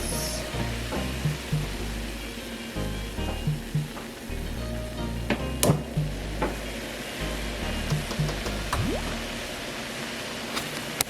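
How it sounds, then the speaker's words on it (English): Jerk steak sears in a hot pan for a Caribbean dinner, giving a steady, loud sizzle with scattered pops and crackles throughout, no talking. "Pan searing so that the meat is brown."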